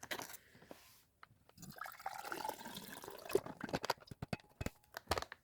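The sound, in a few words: pouring shaken MRE drink out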